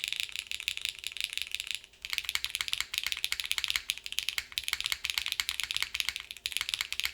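Typing on a Suisei mechanical keyboard with GMK switches and a PP plate, mostly stock, heard as a steady, close run of crisp keystrokes with a brief pause near the two-second mark and no talking.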